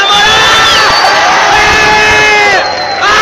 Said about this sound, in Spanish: Un aplauso para esta pareja